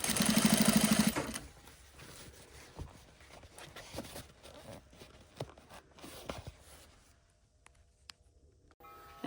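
A domestic sewing machine stitches a seam on a vest, with a loud steady motor whir for about a second, then stopping and giving way to faint handling clicks and taps of the fabric.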